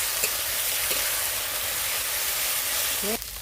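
Fried potatoes being cooked down with spice paste in oil for a village-style vegetarian paneer curry, giving a steady, loud broadband sizzle throughout with a brief stir at the end.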